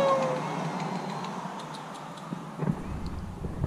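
A single brief meow comes from a cat near a car on jacks during exhaust and bumper work, heard early and faintly over steady background noise.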